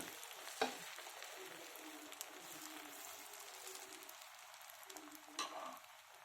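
Bread omelette with egg spread in a pan over a medium flame, frying steadily with a soft continuous sizzle and a couple of brief clinks near the start and end.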